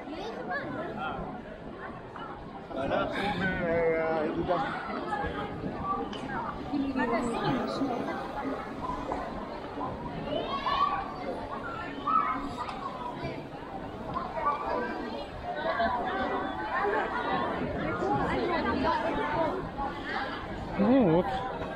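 A crowd moving about outdoors on a Jerusalem street, many overlapping voices chattering at a moderate distance, with footsteps and general bustle throughout.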